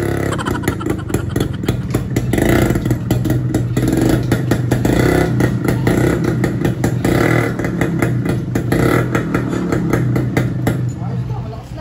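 A Kawasaki HD3 motorcycle running after a rotary plate repair, its engine droning loud and close with a constant rattling clatter throughout, while voices can be heard under the noise.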